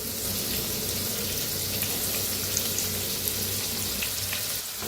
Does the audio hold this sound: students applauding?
no